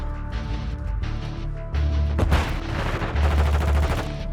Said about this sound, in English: This dude is shooting.